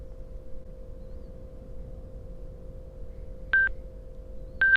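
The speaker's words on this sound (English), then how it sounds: "you should have just heard Sena turning on and connecting to my phone" A Sena Bluetooth motorcycle helmet headset powering on and pairing with a phone: a steady low hum, then two short, clean electronic tones a second apart, near and clear.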